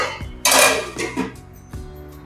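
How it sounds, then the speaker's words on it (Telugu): A lid set onto a cooking pan of wheat rava and spinach upma, giving a single loud metallic clank followed by lighter clinks and a brief rattle, with no talking. "మూత పెడదాం."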